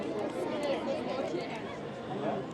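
Dense crowd chatter at Disneyland Paris after a parade, a continuous babble of many overlapping voices with footsteps and general hubbub, steady and fairly close throughout.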